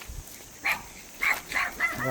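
A dog barks a few times at a distance, short separated yelps under faint background noise.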